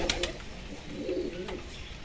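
Male and female pigeons coo in a loft, soft throaty bursts close by with a couple of sharper clicks and flutters around them.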